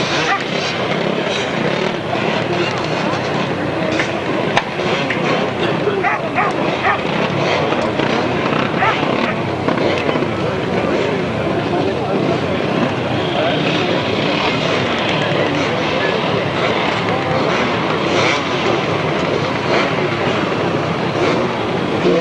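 Grasstrack racing motorcycles at a 1995 national championship final, a loud continuous engine roar with rising revs from several machines, carried over a busy outdoor track as a commentator talks throughout.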